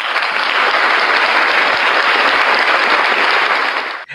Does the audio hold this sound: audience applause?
yes